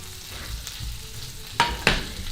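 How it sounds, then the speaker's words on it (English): Food frying in a pan gives a soft, continuous sizzle at low level, with two sharper bursts near the end that sound like stirring or scraping. No one speaks. "Oh, that's a sizzle."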